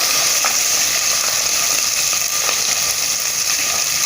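Loud, continuous sizzling and crackling of mustard seeds frying in hot oil, with scattered sharp pops close by and no talking.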